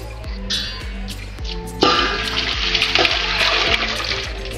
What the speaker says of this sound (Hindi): तो इनमें मैं डालूँगी बहुत सारा पानी।